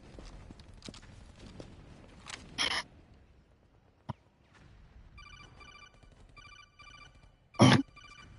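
Telephone ringing in the Metal Gear Solid 4 video game, a short electronic trill repeating in bursts between louder bursts of noise and a sharp click, with quiet game ambience and no talk.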